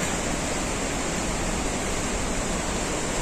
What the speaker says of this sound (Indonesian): Nah, ini air terjunnya